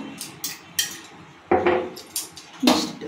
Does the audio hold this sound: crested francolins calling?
no